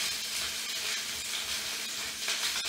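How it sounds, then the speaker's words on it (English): Fries frying in a pan with no deep frying, a steady bright hiss and sizzle of hot oil, close and continuous for a few seconds with faint clicks near the end. "Use my household tongs to arrange all the fries in the pan."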